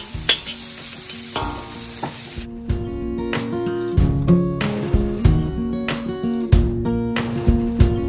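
Onion dropped into garlic sizzling in a pan for a spicy mixed seafood dish, a hiss at first, then loud close clatter and scraping strokes of a utensil against the pan, repeated irregularly, without speech.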